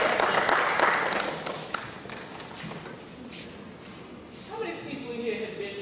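Applause from the audience at a community input meeting for a school superintendent search, a loud burst of clapping at the start that thins out and fades over several seconds beneath the room.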